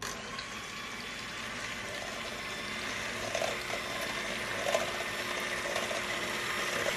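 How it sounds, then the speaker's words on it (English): Egg whites are beaten in a bowl, giving a steady, close whirring churn with a faint mechanical hum that swells slightly toward the end, with no talking. "Just start beating the egg whites plain."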